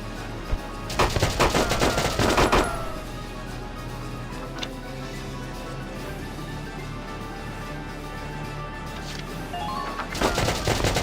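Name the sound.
gunfire in the video game Valkyria Chronicles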